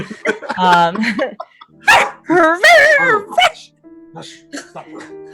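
A person barks and yelps like a dog in loud, close bursts, with short pauses between the imitated barks.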